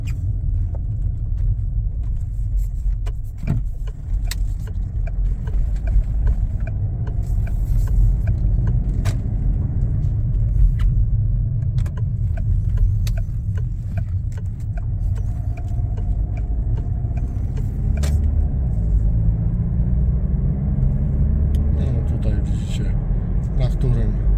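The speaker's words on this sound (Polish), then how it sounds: "że samochód funkcjonuje normalnie podczas jazdy" Steady engine hum and tire rumble of a Peugeot 508 SW 2.0 BlueHDi diesel with automatic gearbox driving along a road, continuous and close, with someone talking over it throughout.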